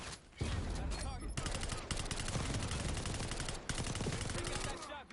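Dense automatic gunfire from Call of Duty Black Ops 6, near and loud, rattling almost continuously with brief gaps after a short opening lull.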